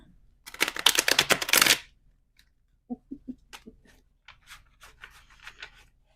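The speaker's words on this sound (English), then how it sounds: "I'm going to give this deck one good shuffle" A large deck of cards gets one fast riffle shuffle, a dense burst of crisp flutter lasting about a second, followed by scattered light taps and soft card handling.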